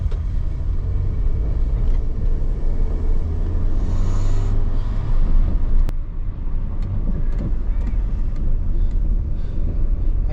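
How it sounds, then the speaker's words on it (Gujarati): Road traffic rolls past on a street in the UK, a continuous low rumble of car engines and tyres with a few sharper swells as vehicles go by. "ચલો ટ્રાફિક નીકળો."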